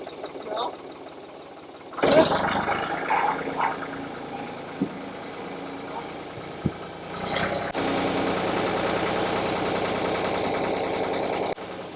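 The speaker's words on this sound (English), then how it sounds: "we're hoping this tractor has enough power for it." A tractor's diesel engine drones steadily under load, rising and straining at times with clanks and knocks, while people talk over it.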